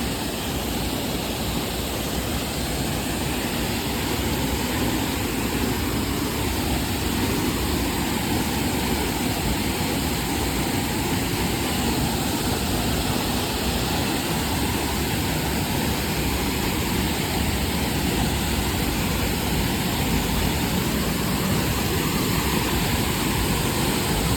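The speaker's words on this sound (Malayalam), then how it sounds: "നല്ല ശക്തിയിലെ വെള്ളം വീഴുന്നത്." Soochipara waterfall in Wayanad, Kerala roars continuously, a dense, steady rush of crashing water filling the whole stretch with no voices.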